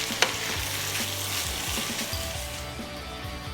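Chopped liver and lungs sauté in a pan with garlic and onion, a steady close sizzle broken by repeated scraping strokes of a spoon stirring the mixture.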